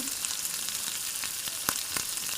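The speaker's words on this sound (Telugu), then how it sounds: "మంచిగా కలుపుకుంటూ వేగనివ్వాలి" Bottle gourd curry base frying in a pan with turmeric and ginger-garlic paste, a steady close sizzle with a few sharp crackles and pops standing out.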